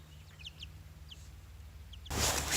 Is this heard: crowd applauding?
no